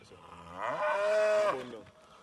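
A single cow moos once on a farm in Jamaica, a long, low bellow that swells and fades, fairly close with no talking.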